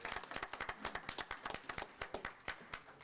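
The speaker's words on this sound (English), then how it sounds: "we owe y'all a huge applause" Sparse, distinct handclaps from a small group at a school board meeting, individual claps audible in an uneven rhythm, fairly quiet and close, with no talking.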